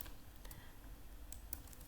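Quiet, scattered keystrokes on a computer keyboard while entering a distance in LibreCAD drafting software, a few faint separate clicks over low background hum.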